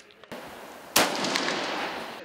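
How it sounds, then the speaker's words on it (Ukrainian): Gunfire at a military shooting competition, with a soft shot followed by a loud, sharp report close by that rings and decays over the next second outdoors. "Стрільба на рваних дистанціях"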